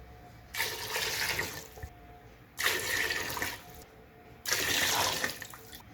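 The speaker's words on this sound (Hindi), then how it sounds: "अपना जो 1 गिलास नाप लिया था पानी डाल देते हैं। अब मैंने इसमें 3 गिलास और डालने हैं।" Water is poured in three separate bursts into a pot of yakhni for brown pulao, each pour a splashing rush lasting about a second and a half, close and fairly loud, with no talking.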